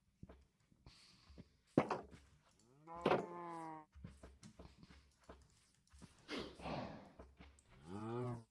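Cows in Minecraft moo several times, drawn-out lowing calls spaced a few seconds apart between soft thumps and footsteps, close and clear with no talk over them.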